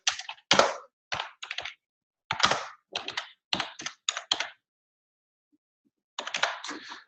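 Clicks of a computer keyboard come in quick, crisp bursts of keystrokes, close and clear, separated by short pauses and then one longer gap before a final burst.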